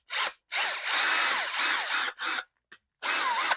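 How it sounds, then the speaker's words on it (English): A power drill bores out a hole in the plastic of a Redcat RC truck in several loud, close bursts of whining, grinding drilling, separated by short pauses. "We're not ruining anything by drilling this hole out bigger."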